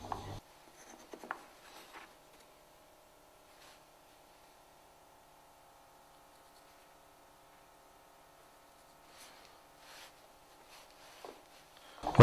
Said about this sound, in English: Note the technique of putting your pencil on the line and sliding the square up to it.